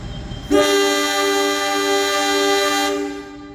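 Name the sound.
train braking to a stop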